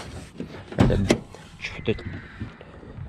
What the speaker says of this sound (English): Let me open the car door for you.